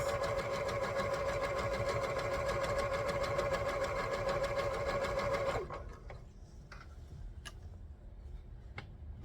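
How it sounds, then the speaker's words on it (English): A sewing machine stitches Bargello quilt top fabric at close range, a loud, steady, rapid needle rhythm that runs for several seconds and then stops, leaving quiet room tone with a few light clicks. "Sewing, you know, stopping and starting is fine to make sure your fabric"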